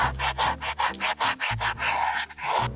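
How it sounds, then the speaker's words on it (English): Coarse, heavy-grit sandpaper rasps back and forth over a chainsaw-carved wooden Moai tiki in quick, rhythmic strokes, close and fairly loud. "we're gonna go with heavy grit sanding paper"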